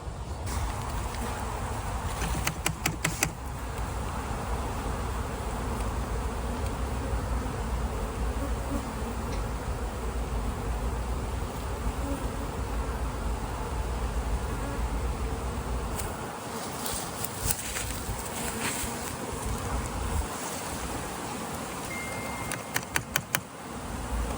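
Honey bees buzz at their hives during varroa treatment by vaporising, a dense, continuous hum close by, with occasional louder passes and a few brief clicks and knocks.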